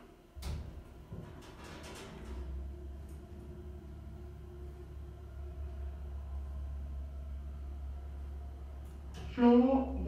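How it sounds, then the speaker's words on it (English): A lift in Southampton starting to go up: a thud and clunk of the car setting off, then a steady low motor rumble and hum that carries on, with a brief chime or clatter near the end. "Going up."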